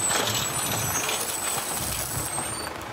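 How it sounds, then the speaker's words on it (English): A big dump truck rumbles nearby with a broad, steady roar of engine and road noise and a thin, high whine running above it, lasting a few seconds without talk. "It's a big, green dump truck."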